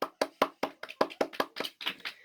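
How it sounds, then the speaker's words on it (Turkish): A small group claps together in about a dozen distinct, evenly spaced claps, close and fairly soft, growing slightly looser toward the end during a drawing contest. "Arkadaşlar buraya kadar geldiğiniz için bir alkışlayalım"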